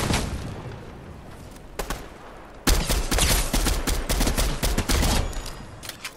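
Rapid gunfire in a shooting game, dense bursts of shots that grow louder and more continuous in the second half, close and sharp.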